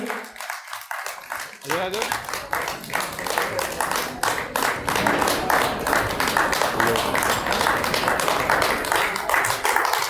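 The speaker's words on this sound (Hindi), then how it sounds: "जोरदार तालियों से एक बार स्वागत करें" An audience at a car dealers' association annual meeting applauds a guest taking the stage, a dense sustained clapping that swells after a brief lull and carries on steadily, with voices mixed in.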